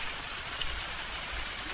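Cartoon rain falls on a road, a dense, even hiss of drops that holds steady and fairly loud throughout, with no voices over it.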